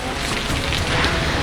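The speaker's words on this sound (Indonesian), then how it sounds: "Warga merekam saat hujan turun disertai angin kencang di Kecamatan Wai Jepara" Rain falling with strong wind in Wai Jepara district, East Lampung, Lampung, a dense, steady hiss and rush of rain and gusts with no voices.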